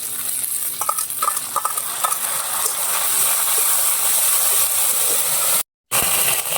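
Browned onions sizzle loudly in a pan as ginger paste goes in for a country chicken curry, with a steady hiss, stirring clatter and one brief dropout.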